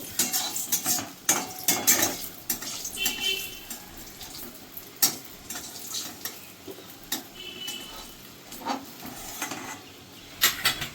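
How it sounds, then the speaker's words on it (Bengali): Three dried red chillies fry in oil left from cooking fish, with soft sizzling under frequent metallic clinks and scrapes of a utensil against the pan. "এবার এই তেলেই 3টে শুকনো লঙ্কা ভেজে নেব।"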